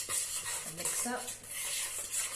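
Utensil scraping and stirring a sugar mixture in a bowl, soft repeated clinks and rubbing strokes close by.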